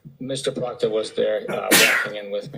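A single short sneeze from someone in a courtroom during witness testimony, bursting out briefly amid a man's ongoing speech.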